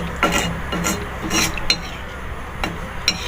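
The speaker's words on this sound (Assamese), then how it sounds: "পানীখিনি দিয়াৰ পিছতো এইখিনি ভালদৰে মিক্স কৰি লৈছোঁ।" A spoon stirs butter chicken masala with water in a kadai, making repeated scraping strokes and sharp metallic clinks against the pan at an irregular rhythm, close and moderately loud.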